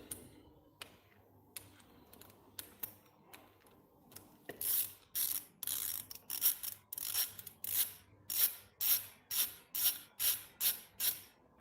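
A spanner working on a PRM 160 marine gearbox gives a series of sharp, rhythmic ratcheting bursts. They start sparse and quiet, then become a loud, regular run of strokes close by.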